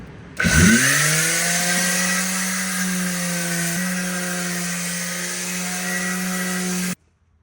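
A power tool runs on an abrasive pad against a composite sink, starting abruptly, holding a steady high-pitched whine with a grinding edge for several seconds, and then cutting off suddenly with no talk.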